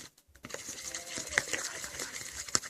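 A slime mixture made with lip tint is stirred in a container, giving soft wet squelching and scraping with a couple of light clinks, quiet and close.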